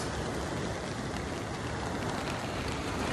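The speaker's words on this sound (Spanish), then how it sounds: "Nos tocó lluvia en el día de pesca hoy" Steady rain falling during a fishing outing at Hatteras, North Carolina, a dense, even hiss of drops on surfaces that holds constant throughout, with no talk.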